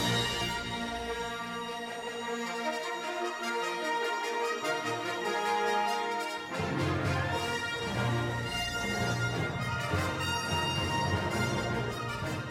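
Full orchestra playing the Star Wars music, sustained brass and strings swelling into a louder, fuller passage midway, rich and continuous without talk.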